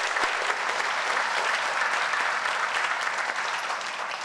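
Steady, full applause from the audience at a police academy graduation ceremony, dense clapping that holds evenly and tapers slightly at the end.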